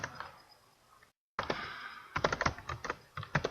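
Typing on a computer keyboard, quick irregular bursts of close, crisp key clicks after a brief silent gap, recorded close up.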